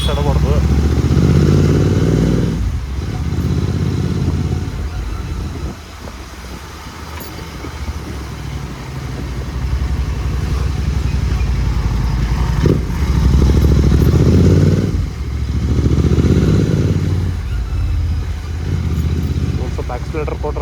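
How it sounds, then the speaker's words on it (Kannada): A motorcycle engine revs up in repeated bursts as the rider downshifts with rev matching, the loud nearby engine note rising and falling in waves while someone talks over it. "ಆಕ್ಸಿಲೇಟರ್ ಕೊಟ್ರೆ ಗೇರ್ ಡೌನ್ ಹೊಡ್ಕೊತಿಲ್ಲ."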